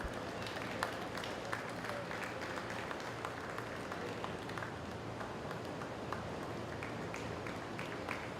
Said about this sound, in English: Let's give him a round of applause while I do that